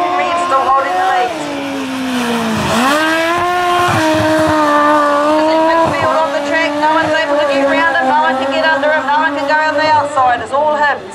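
Speedway sidecar outfits race around the Rosebank Speedway track, and their engines give a loud, continuous snarling drone that swells and shifts pitch as they pass. A commentator talks over the racing.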